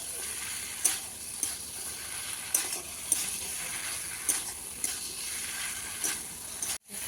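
Potato and cauliflower being sautéed with spices in a pan, a soft continuous sizzle broken by regular spatula scrapes and stirring knocks about every half second, close and fairly quiet, no voices.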